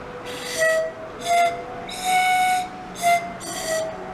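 Five breathy, pitched tones from a drinking-straw pan flute pipe sound one after another in short puffs, fairly loud and close.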